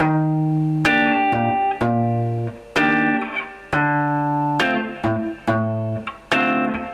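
An electric guitar plays a repeating reggae pattern of strummed chords, bright and distorted, each chord ringing briefly before the next stab.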